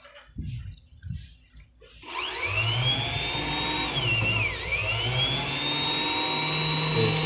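A car starter motor spinning freely on the bench without its solenoid, starting after a couple of seconds with a steady high whine that dips briefly in pitch and then holds, loud and close.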